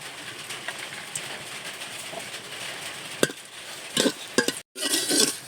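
Cinnamon, cloves, cardamom, two dried red chillies and bay leaves sizzle in hot oil in a handi pot: a steady, moderately loud hiss with sharper crackling bursts near the end and no talking.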